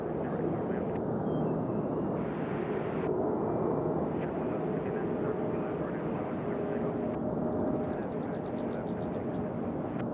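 A Southwest airliner taxis quickly at Nashville International Airport, its steady engine roar broad and continuous throughout, with faint higher whines drifting in and out over the rumble.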